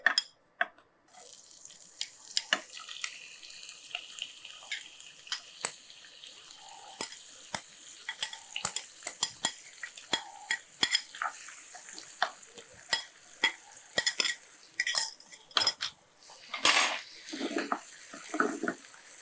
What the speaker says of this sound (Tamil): எண்ணெய் வந்து நல்லா சூடானதுக்கப்புறம் நான் வச்சுருக்கிற இந்த இறால் இறாலை இதோட அப்படியே சேர்த்துடலாம்